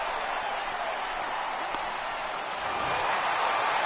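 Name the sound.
home crowd cheering in a PS4 baseball video game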